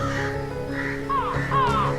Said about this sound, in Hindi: अरे ये इतने सारे कौवे कहाँ से आ गए?